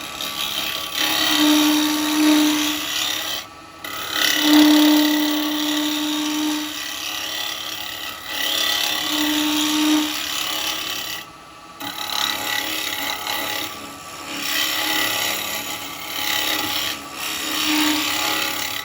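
Woodturning gouge cutting a small yew pot-pourri pot on a lathe, a steady close scraping whir with brief pauses as the tool lifts, held flat to remove wood.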